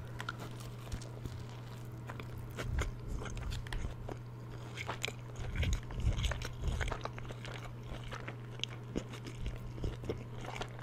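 Close, crisp bites and chewing on a burger with crispy bacon, cheese and sauce, alongside fries. Crunches come in irregular bursts over a steady low hum, with no talking.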